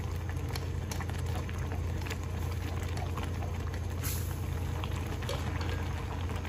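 Water boiling in a pot while noodles cook at a farmhouse, a steady bubbling hiss running through the whole stretch with no voices.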